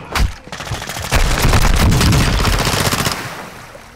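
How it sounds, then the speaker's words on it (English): Automatic gunfire in the online shooter Warzone 2 crackles in loud, dense bursts that run almost without pause, with sharp crack-like transients over a steady barrage. "Oh, somebody shooting at us."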